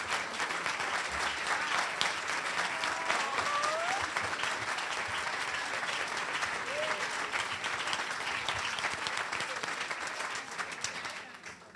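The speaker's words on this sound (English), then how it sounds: "Would you give her another round of applause?" A large audience claps steadily and loudly throughout, a dense wash of applause that fades slightly at the end.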